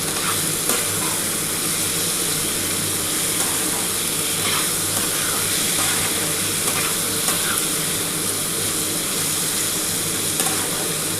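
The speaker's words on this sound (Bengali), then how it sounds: "যতটা তোমরা এই মশলাটা কষাতে পারবে ততটা কিন্তু খেতে ভালো লাগবে।" Spice paste for Bengali lote fish curry with potatoes sizzling and frying in a pan, a continuous close hiss with occasional scraping stirs, steady and loud throughout with no talking.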